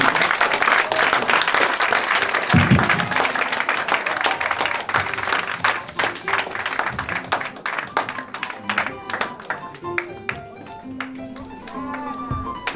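Church congregation applauding the Lord during a service, a dense wash of clapping that thins toward the end, with scattered voices and a sustained musical tone underneath.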